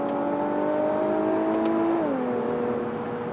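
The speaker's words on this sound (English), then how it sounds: "See, that was a crisp upshift right there." An Infiniti Q50 Red Sport with a turbocharged engine accelerates on a New York road, its engine note climbing smoothly. A crisp upshift drops the pitch, and it then pulls on steadily, loud and close from inside the cabin.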